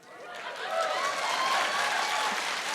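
Live audience applause at a comedy show in Christchurch swells up from quiet into a dense, steady wash of clapping that holds for a couple of seconds.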